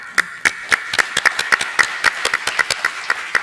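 Hands clapping in steady, fairly sparse rhythm from a small conference audience thanking the translators, crisp individual claps rather than a roaring ovation, with no talking over them.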